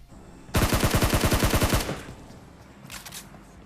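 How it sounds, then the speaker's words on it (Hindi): A rapid burst of automatic gunfire in a video game, about a dozen sharp shots in quick rhythm, then quiet with a brief faint clatter afterward. "मैं गन पे गोली चलाता हूँ"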